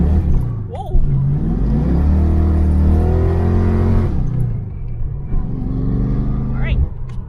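A 1991 Ford Mustang Foxbody drives off, its engine rumbling and revving up close, then easing off and building again as it pulls away.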